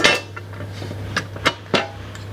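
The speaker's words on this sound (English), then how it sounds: "take a bolt and a washer, put them together, put it through the hole in the wind deflector" A metal bolt and washer are handled and fitted through a hole in the wind deflector of a Front Runner Slimline II roof rack, giving a few sharp, close metallic clinks spaced out over two seconds.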